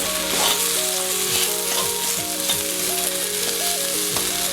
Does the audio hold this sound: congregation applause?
no